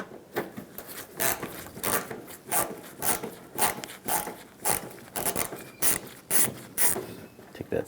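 A Phillips head screwdriver turns a screw out of the front bumper area of a 1997-2001 Honda CR-V, giving repeated rhythmic scraping, ratcheting twists at close range.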